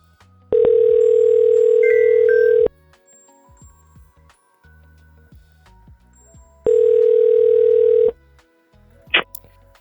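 Two long, loud ringback tones sound on a call placed from a FreePBX desktop extension to a mobile phone, each a steady buzzing burst of about two seconds with a short gap between them, followed by faint clicks.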